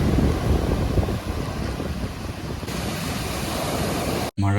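Rough sea surf surges and roars onto a beach after heavy rain, with churned, muddy water and gusting wind buffeting the microphone, loud and continuous, ending in a sudden dropout.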